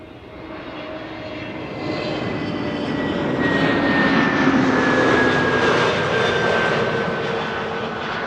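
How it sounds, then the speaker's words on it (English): A KLM Airbus A321neo jet airliner arriving from London Heathrow at Amsterdam Schiphol Airport, its engines giving a loud, sustained roar that slowly swells and holds with a thin steady whine over it. "KLM 8321 Neo, flight 1002, arriving from London Heathrow."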